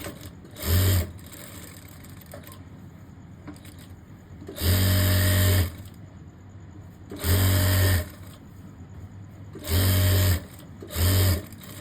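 A sewing machine stitches the pieces of a boy's cord set in four or five short, loud motor bursts, each about a second long, spaced apart by quiet stretches of low background hum.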